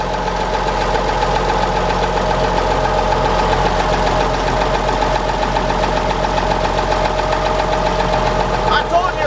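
A freshly started engine idles steadily to warm up, a constant mid-pitched running drone with light vibration holding at an even level throughout, close by with no talking.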